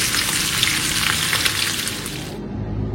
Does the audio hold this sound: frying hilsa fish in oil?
yes